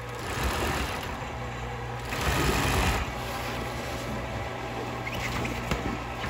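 An industrial sewing machine stitches boat cover fabric for marine upholstery, a steady close mechanical whir with a low hum that carries on through the whole stretch, swelling slightly in the middle, with no talk over it.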